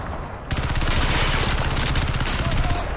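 A rifle fires a sustained burst in the shooter Crysis 3 multiplayer, loud rapid-fire shots starting abruptly and continuing densely for over two seconds before cutting off.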